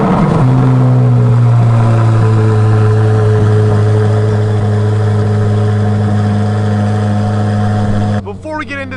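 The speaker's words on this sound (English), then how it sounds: "Let's get this cold start" A Chevrolet Corvette C8 Z06 cold start: the engine fires and settles into a loud, steady high idle with a strong low drone for several seconds, then drops abruptly near the end.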